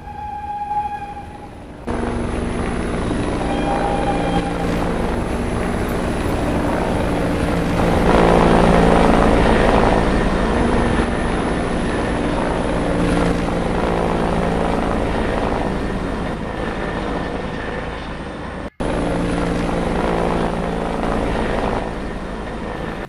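A helicopter's engine whines and its rotor thrums steadily and loudly at close range, a sustained droning roar with a brief cut near the end.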